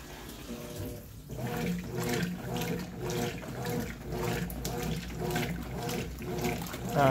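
A Brastemp washing machine agitates on its whites cycle, water sloshing and churning in a steady rhythmic back-and-forth, moderately loud and close, with no one talking.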